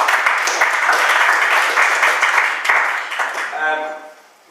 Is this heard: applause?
yes